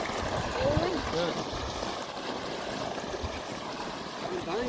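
Water on a farm rushes and churns steadily throughout, a continuous close wash of flowing sound with faint voices murmuring underneath.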